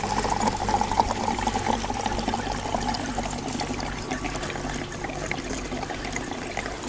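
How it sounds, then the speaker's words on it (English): E10 gasoline pouring and trickling from a container into a 9000 watt generator and splashing onto the floor, a soft continuous liquid stream close by with no talking. "I poured the gas on the floor."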